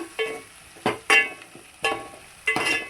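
Onions sizzle in a hot pan as a spoon stirs them, with several distinct scraping strokes spaced about half a second apart over a steady low frying hiss.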